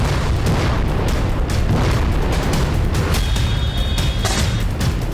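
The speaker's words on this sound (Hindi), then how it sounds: "इजराइल ने बेरूत और साउथ लेबनान में धमाकेदार एयर स्ट्राइक की। पूरी रात हिजबुल्लाह के ठिकानों पर बम बरसते रहे।" Bombs from air strikes on Beirut and south Lebanon detonate in a loud, continuous roar of deep booms and rumbling blasts, several sharper bursts standing out near the end.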